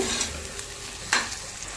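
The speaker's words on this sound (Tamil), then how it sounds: "இப்போ நம்ம அந்த தக்காளி வதங்குற வரைக்கும் வதக்கிக்கலாம்." Tomato sautéing in a pan for coconut milk rice sizzles steadily up close, with a couple of brief spoon scrapes stirring through the hiss.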